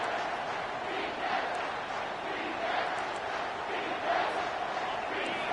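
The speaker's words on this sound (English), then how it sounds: "this crowd is tearing the lid off this place" Home stadium crowd at a Mizzou football game roaring steadily, a dense continuous wash of cheering with swelling peaks, loud and sustained.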